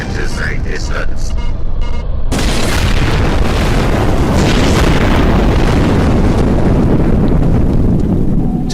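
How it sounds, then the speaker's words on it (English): A sci-fi rendering of explosions at a planet's core: a heavy, sustained rumbling boom swells in after a quieter opening and roars loudly to the end, with voices speaking beneath it. "We are detecting explosions at planet's core."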